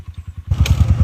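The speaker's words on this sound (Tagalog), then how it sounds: "Napahinto kami kasi parang ayaw mandar ng motor namin." Motorcycle engine labouring on a rough mountain road, a close, steady pulsing throb that grows louder and busier partway through with added rattling, no voices.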